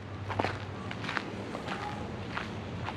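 Footsteps walking through a wooded park beside a creek in Mill Valley, California, a steady series of soft crunching steps close by over low outdoor ambience.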